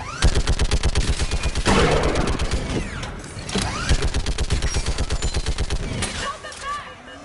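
A mounted gun fires in a video game battle at enemies on a bridge, a long run of rapid, loud, evenly spaced bursts with brief pauses, over busy gunfire and explosions, easing off near the end.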